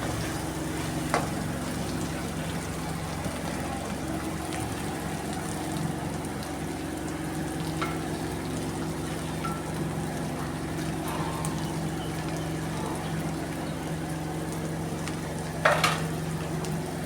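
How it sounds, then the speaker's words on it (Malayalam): Kerala-style beef fry with curry leaves is stirred in a pan, giving a steady, even sizzle and hiss throughout. A few faint scrapes are heard, and there is no talking. "കരിവേപ്പിലിട്ടിട്ട് നന്നായിട്ട് ഇളക്കി കൊടുക്കുക."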